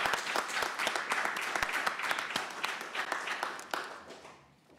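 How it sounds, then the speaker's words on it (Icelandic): Applause fills a city council chamber during a special ceremony, a dense steady clapping from many hands that holds strong and then thins out and fades near the end. "Það má alveg klappa við svona sérstakar athafnir í borgarstjórn."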